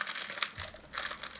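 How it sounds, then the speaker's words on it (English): A long plastic bag being rummaged through by hand gives dry, close crinkling in uneven bursts that rise and fall over a second or so, with no talk. "Maybe it's just the sound of the bag."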